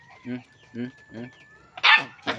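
A dog gives several short, whiny barks or yips in a row, close by, ending in a couple of louder, sharper barks.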